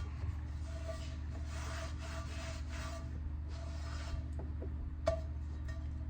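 Rust is scrubbed off a pan in rhythmic rasping bursts, close and fairly soft, with brief pauses between strokes over a low background hum.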